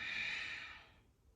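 A single slow exhalation during a relaxing yoga breathing exercise, a soft airy breath close to the microphone that fades out after about a second.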